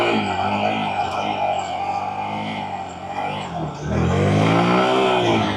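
Honda Grom motorcycle engine revving steadily through wheelie practice, a loud continuous drone that dips briefly, then surges back up in pitch and volume as more throttle is applied, close to the microphone.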